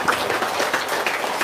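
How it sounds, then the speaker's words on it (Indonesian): An audience at an indoor gathering breaks into steady applause, a dense patter of many hands clapping at an even level throughout the short stretch, with no talking over it. "Emang Bapak Daya, tepuk tangan dong"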